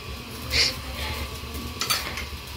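Metal spoons clanging against a cooking pot in a home kitchen, two or three light bright clinks over a steady low background hum.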